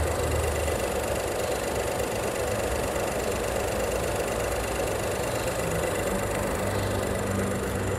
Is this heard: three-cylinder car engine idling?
yes